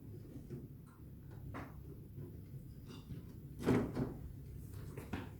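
The wooden door of a comtoise longcase clock being handled while the clock is reassembled after a move: soft knocks, rubbing and a firmer clunk midway, close and modest in level, with no talking.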